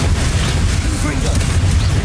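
The Confringo fire spell bursts in Hogwarts Legacy, a loud, dense explosive roar that fills the whole moment with rumbling blast noise, while a voice is heard alongside.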